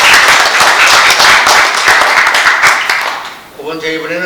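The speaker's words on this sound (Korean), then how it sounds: "네, 박수 부탁드립니다" Audience applause at a formal Korean gathering honoring guests, a broad patter of clapping that fades toward the end as a voice begins speaking.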